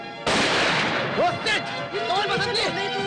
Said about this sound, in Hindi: रुक जा बब्बन, वरना गोली चला दूंगा।